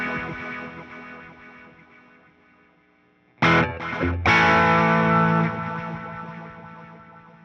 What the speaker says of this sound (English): Here's the stereo Echo Filter.